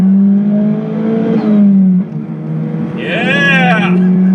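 A 2008 Pontiac Solstice GXP accelerates hard, its engine note climbing through the revs, dipping at a gear change, then rising again with a whining, near, loud tone, while a voice calls out over it.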